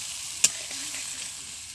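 Spice paste with a little water and salt sautés in a pan for a light rohu fish curry with okra and potatoes, giving a steady, close sizzle with one sharp clink early on.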